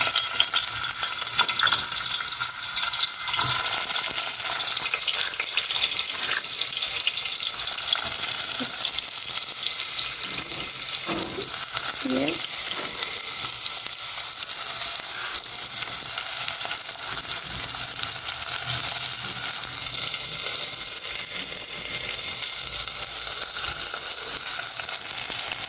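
Onions frying in a pan for a Kenyan meal, a loud, close and steady sizzle that runs unbroken for the whole stretch, with a few faint knocks of a utensil and no talk.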